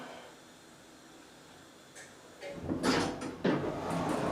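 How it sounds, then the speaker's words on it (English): A hydraulic LULA elevator door at a lodge slides open with a soft mechanical rush and a couple of thuds, starting quietly after about two seconds and growing louder near the end. "So now the door opens."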